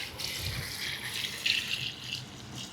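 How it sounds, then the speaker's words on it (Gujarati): Water runs steadily from a tap into a pot for boiling potatoes in a home kitchen, a continuous close gushing with small splashes and faint rattles. "આપણે બાફવા માટે પાણી મૂકી દીધું છે"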